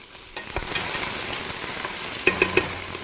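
Garlic cloves cook in a soup pot with a steady sizzle and frying hiss, joined by a few close scraping and tapping stirs, without talking.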